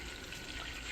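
Tap water running into a sink while a utensil is rinsed in a kitchen during candy-making, a steady broadband wash of flowing water that stays level and fairly close for the whole second, with no talking.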